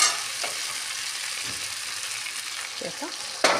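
Pigeon meat and potatoes fry in a pan with a steady, soft sizzle and a few light stirring taps near the end.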